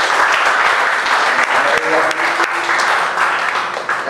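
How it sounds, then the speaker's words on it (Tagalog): A church congregation bursts into loud, sustained applause during a worship service. The dense clapping carries on throughout, with a voice heard faintly beneath it. "the best po palakpak para kay Jesus"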